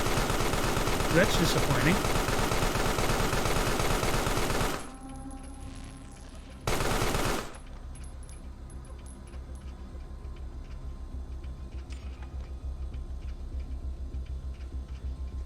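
Rapid turret gunfire from the video game Carrion bursts loudly for several seconds, stops, then returns in a short second burst, followed by quieter ticking game sounds and a brief spoken remark.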